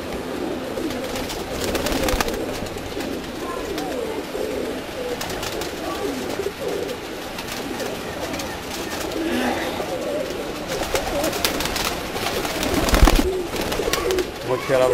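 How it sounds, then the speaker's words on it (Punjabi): Pakistani pigeons coo steadily and continuously at close range, layered murmuring calls from several birds filling the whole stretch with no speech. "ਵਾਲੇ ਕਬੂਤਰ ਮੋਛੇ ਵਾਲੇ"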